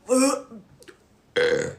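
A voice imitates burping, with two loud throaty belch sounds separated by a short pause, close and harsh.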